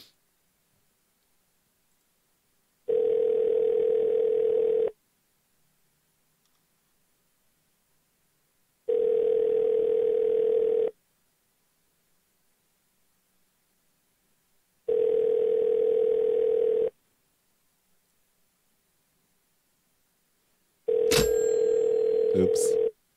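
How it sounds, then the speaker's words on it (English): A telephone ringback tone sounds as an outgoing call goes unanswered, four steady two-second rings spaced about four seconds apart, loud and alone with silence between them. "I'm going to try Tanya three times"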